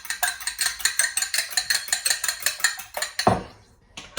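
An egg is whisked lightly in a bowl for a pecan pie, a brisk, regular run of metallic clinking strokes against the bowl, close and loud, that stops briefly and then starts again.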